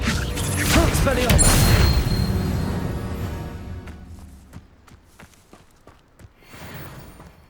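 A fiery Incendio spell erupts in Hogwarts Legacy with a loud, broad whoosh and burst in the opening seconds, then fades into quieter crackles, thuds and footstep-like knocks.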